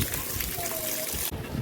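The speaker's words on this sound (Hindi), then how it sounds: "बारिश हो रही है।" Heavy rain pours down during a storm, a dense steady hiss filling the short stretch, with a faint thin tone drifting through.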